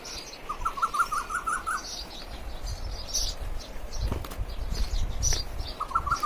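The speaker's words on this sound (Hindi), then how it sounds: "नीचे वाले पेड़ से कोयल कूक रही है।" Asian koel calling from a tree below a hillside field on a clear sunny day, a short run of repeated rising notes early and again at the end, moderately distant over outdoor background noise.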